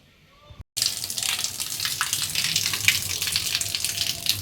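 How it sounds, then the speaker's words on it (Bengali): Supply water gushes steadily from a tap into a filling container, starting suddenly after a brief quiet moment and continuing as a close, even, splashing rush. "সাপ্লাই জল জানি এসে পড়েছে।"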